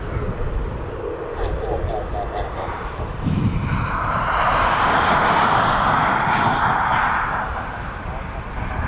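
A Learjet lands at East Midlands Airport, its engine roar swelling steadily and growing loud toward the end of the approach, heard from a nearby spotting position with a voice talking over the noise.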